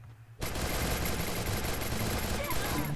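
Dense, sustained automatic gunfire in the Free Fire video game erupts suddenly and rattles on loudly for over two seconds without a break.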